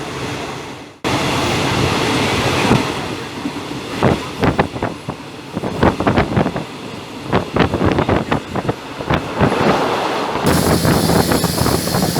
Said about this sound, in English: We've got a ticket, and we are waiting for the train.